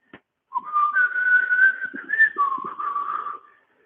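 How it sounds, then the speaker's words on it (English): A person whistles the Rocky theme tune up close, sustained notes rising and dipping over a few seconds, with faint background noises beneath. "Start whistling the Rocky theme tune."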